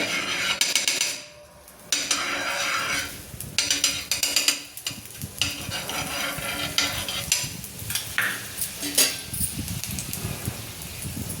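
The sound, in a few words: paratha being roasted on a pan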